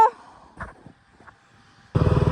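A motorcycle engine is ridden on a Nepali road, with a few faint scattered knocks and a weak hum before the engine noise surges in loudly and rhythmically near the end.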